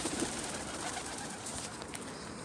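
Pigeons coo softly in a park during an outdoor walk, faint and somewhat distant beneath a steady wash of wind and ambient outdoor noise, with no talking.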